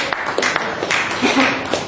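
Scattered, uneven clapping from a few people in a lounge audience, loud and close, with separate sharp claps standing out over a low murmur of voices.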